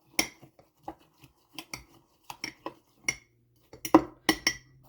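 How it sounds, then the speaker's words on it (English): A clean knife stirs overnight oats in cups, giving a series of sharp metallic clinks and taps against the containers at an irregular rhythm, close and distinct with no talking. "I like to take a clean knife and stir that part up. Just give each one of them a little stir."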